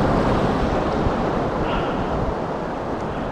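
Ocean surf washing steadily while wade fishing in the Galveston surf, a continuous loud roar of breaking waves mixed with wind buffeting the microphone, with no talk.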